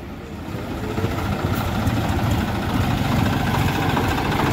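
A 2020-model 963 tractor idles at a tractor market, a steady low diesel rumble that holds even and continuous throughout, fairly close and loud, with no talk.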